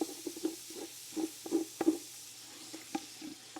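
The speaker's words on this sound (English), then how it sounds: "So we're going to pull all that fond off the bottom of the pan. So again, give it a good scrape." A wooden utensil scrapes browned fond off the bottom of a pan, making short, uneven scraping strokes against a soft sizzle, close and fairly quiet.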